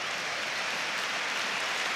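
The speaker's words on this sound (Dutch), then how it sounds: "Hoort applaus voor Ramis Serouki." Stadium crowd applause for a substituted player at an FC Twente versus Excelsior football match in Enschede, a steady, even roar of distant clapping with no break.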